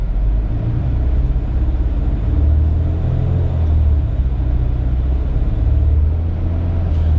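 Steady, loud low rumble of a vehicle engine running just off idle, close by and continuous, with a slight rise and fall in pitch and no voices.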